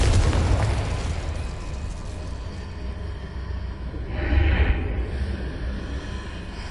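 A Confringo blasting spell explodes in the Hogwarts Legacy video game, a single booming burst followed by a crackling, rumbling tail, loud and near, with no talk.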